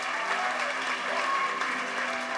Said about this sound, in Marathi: Give a big clap offering to the Lord for the whole team.